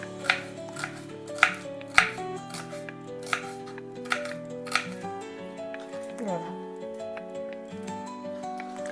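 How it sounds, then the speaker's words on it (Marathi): A knife cuts thin slices from peeled onions on a board, with sharp regular taps, strongest early on and then softer, heard close beneath steady background music. "असे बाकीचे कांदे मी आता कापून घेते"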